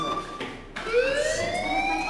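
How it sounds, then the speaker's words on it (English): A school fire alarm in Life Is Strange: a rising, wailing siren tone sweeping upward, loud and close, with a brief muffled stretch before it swells. "Hey, do you hear that fire alarm?"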